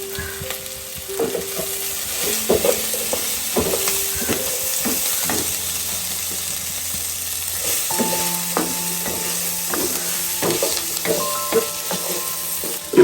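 Beef cooking in a pan for a homestyle breadfruit beef curry sizzles steadily while being stirred with salt, with scattered clinks and scrapes from the utensil. No one speaks.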